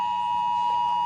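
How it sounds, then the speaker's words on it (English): A weather alert alarm sounds from a clock as one steady, loud electronic tone held without a break, with no one speaking over it. "We're having an alarm of some kind for weather. It's my clock."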